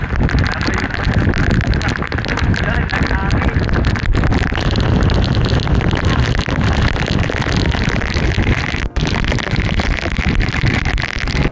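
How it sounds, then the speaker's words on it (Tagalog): Strong wind and rain batter the slopes of Mt Kapigpiglatan in a loud, unbroken roar, gusts buffeting the microphone and rain drumming without pause. "Pagbaba ay mas lalo pang lumakas ang hangin at ang ulan."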